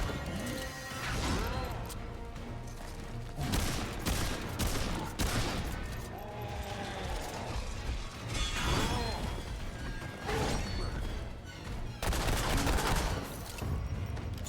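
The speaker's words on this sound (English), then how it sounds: "I do like that we can quick fire this thing" Quick-firing gun in Remnant II rattles off dense bursts of shots, continuous and busy amid crashing impacts and mechanical game effects, at a fairly steady moderate loudness throughout.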